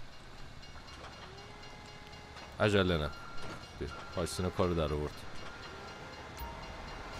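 An approaching train in the video game GTA V sounds two loud, sustained horn blasts over a steady background rumble, while people talk quietly.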